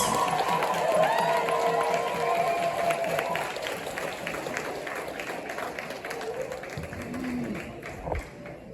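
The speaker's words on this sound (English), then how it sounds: "let's give her a round of applause again" An audience at an FLL regional robotics event applauds and cheers after a talk, the clapping loud at first and thinning to scattered claps, with voices murmuring underneath.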